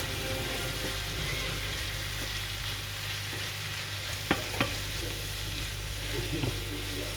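Food fries in a pan with garlic powder, sweet paprika and pepper, giving a steady close sizzle, broken by a few brief clicks and scrapes as it is stirred.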